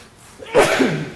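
A single quick, sharp sneeze bursts out after a brief quiet moment, close to the microphone, during a county fiscal court meeting.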